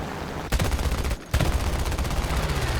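Rapid machine-gun bursts from aircraft in War Thunder, Chinese A6M2 Zero premium plane in a USA-team match, loud continuous rattling fire with a brief gap near the start, dense gunfire sounding alone.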